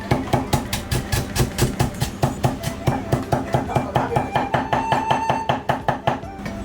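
A kitchen knife mincing fresh ginger on a board, rapid steady chopping strikes repeating in a close, loud rhythm with a faint tonal hum beneath.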